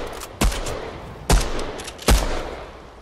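Three loud, sharp video-game gunshots ring out, evenly spaced roughly a second apart, each followed by a brief decaying tail.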